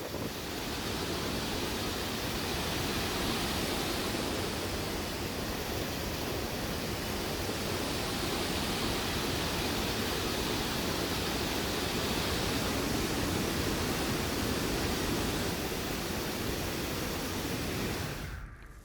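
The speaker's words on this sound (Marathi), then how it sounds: "सांडव्यावरून पवना नदीत पाणी सोडण्यास सुरुवात झाली आहे" Water pours over a dam spillway into the Pavana river, a dense, unbroken roar of broadband rushing that holds level and loud for the whole stretch before cutting off abruptly at the end.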